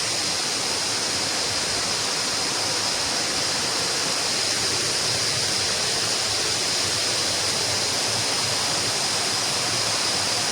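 The Eli Hatha waterfall at Maliboda roars in a constant, dense rush of falling water, loud and unbroken throughout with no other sounds.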